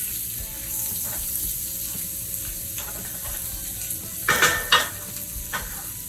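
Corn sizzling and frying in a cast iron skillet, a steady close crackle with a few louder bursts of stirring and scraping near the end.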